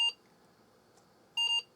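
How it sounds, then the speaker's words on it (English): An Apple II+ clone computer with a fault gives two short, sharp electronic beeps about a second and a half apart while rebooting, clear against quiet background static. "So that did 2 beeps, which sort of implies that it's crashed."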